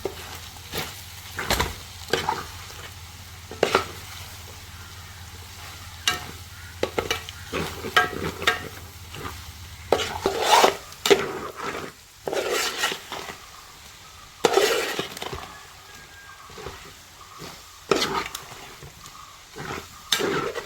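Boti (tripe) fries in ghee and oil with a constant close sizzle, while repeated scraping stirs from a spoon break through the bubbling hiss.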